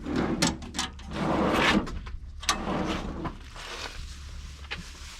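Storage drawers in a Black Series camper trailer slide open and shut, giving a few close rolling rumbles and sharp knocks, with handling thuds between them.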